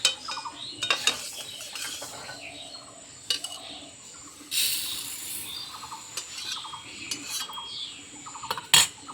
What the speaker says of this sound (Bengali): মুগ ডাল ভাজা হয়ে গেছে মুগ ডালটাকে এখন ঢেলে নেব